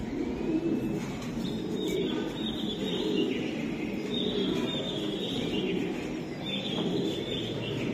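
Several racing pigeons cooing in low, overlapping rolls, nearby and continuous, with faint chirps and a noisy background.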